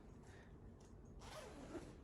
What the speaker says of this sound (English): So it zips up.